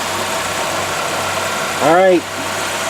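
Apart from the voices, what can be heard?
1999 Ford Ranger engine idling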